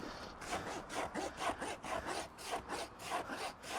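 A farrier's rasp scrapes across a horse's hoof, moving across the toe in both directions in about nine even, rhythmic strokes, each a close, gritty rasping rub.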